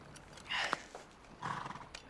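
A horse is acquired for recon work at a frontier settlement. Two short, faint bursts of horse sound, with hoof clops and a brief whinny, occur against quiet background noise.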